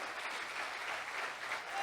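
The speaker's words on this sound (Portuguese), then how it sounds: "Aplauda Jesus, porque vai acontecer." A church congregation claps together during a sermon, a dense, fairly loud patter of many hands that rises and falls slightly over a couple of seconds, with a faint voice beneath.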